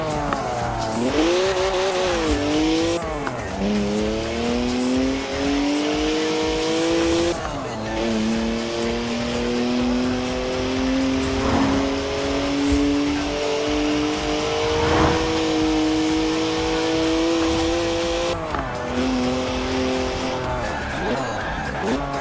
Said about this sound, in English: 3-litre straight six, 335 horsepower, 2 turbos, and as much sideways action as you like